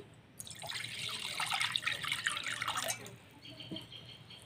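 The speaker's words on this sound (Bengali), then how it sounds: "জেলি কেক বানানোর জন্য আমি একটা পাত্রে জল নিয়ে নিচ্ছি" Water pouring into a pot for a mango and lychee agar jelly cake, a splashing rush lasting about two and a half seconds that then drops to a few faint drips, close by, with no talking.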